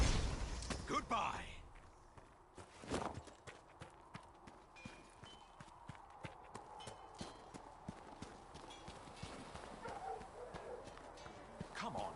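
Horse hooves clip-clop at a steady walking pace in the Dragon Age: Inquisition fantasy game, a regular rhythm of light hoof strikes over soft ambient sound, starting after a brief louder burst near the opening.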